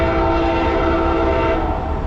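An Amtrak California Zephyr passenger train passing in Martinez, California, its horn holding one loud, steady, sustained chord close by over the rumble of the train.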